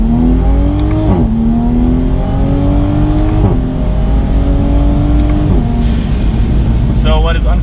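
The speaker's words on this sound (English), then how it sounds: "you get those exhaust pops" A Toyota Supra in sport mode at full throttle roars loudly and close, its engine note climbing and dropping at each shift, with crackling exhaust pops near the end and a voice talking over it.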